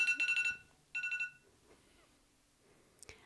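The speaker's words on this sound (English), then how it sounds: "Why do you have an alarm on your phone?" Two quick bursts of bright, pulsing electronic beeping, like a phone alarm, separated by a short pause, then near silence with a brief click at the end.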